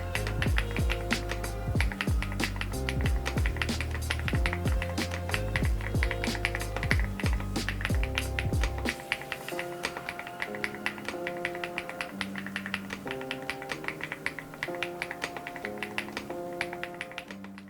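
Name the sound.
mechanical keyboard linear switches typing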